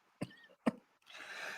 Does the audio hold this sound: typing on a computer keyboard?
no